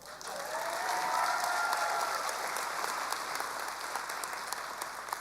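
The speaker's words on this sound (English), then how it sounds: "We can applaud." A large graduation audience breaks into sustained applause at a high school ceremony, a broad, even roar of clapping from a distance that swells and then gently eases.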